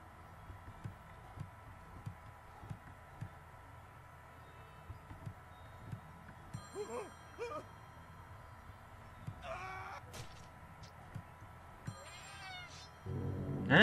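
A cat meows several times in the video game Friday the 13th Killer Puzzle. The short, moderately loud cries are spread over a steady low background hum, with faint soft clicks between them.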